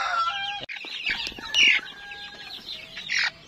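A crowded cage of one-month-old free-range chickens clucks and peeps continuously, with overlapping chirps and short squawks close by and no talking.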